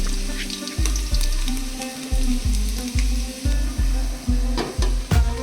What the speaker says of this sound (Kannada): ಒಂದು ಪಾತ್ರೆಯಲ್ಲಿ ಆಯಿಲು ಮೂರು ಮೆಣಸಿನ್ಕಾಯಿ ಈರುಳ್ಳಿ ಮತ್ತು ಚಿಲ್ಲಿ ಪೌಡ್ರನ್ನ ಹಾಕ್ಕೊಂಡು ಚೆನ್ನಾಗಿ ಫ್ರೈ ಮಾಡ್ಕೋಬೇಕು